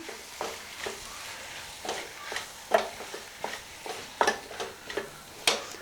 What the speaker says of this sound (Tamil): போட்டுட்டு நல்லா கிளறிடலாம்